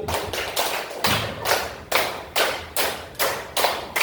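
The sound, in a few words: group clapping in a counted pattern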